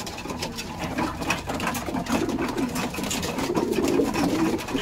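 Pigeons cooing in a loft or rooftop coop, a continuous low murmuring coo from several birds close by, steady throughout with scattered wing and rustling noises over a dense background.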